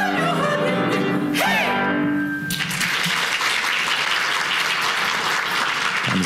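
A university choir's closing hymn note gives way to loud, sustained applause from a large audience at an inauguration worship service, dense clapping filling the hall.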